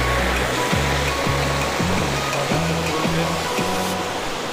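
Water pours steadily at Bada Ghagara waterfall, fed from the Bada Ghagara dam, in a continuous broadband rush that fills the whole clip, with a low rhythmic thumping underneath and no talk.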